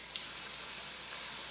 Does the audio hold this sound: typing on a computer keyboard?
no